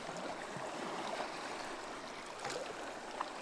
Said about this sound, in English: you're standing on a beach and you're hearing water rippling as the sea comes in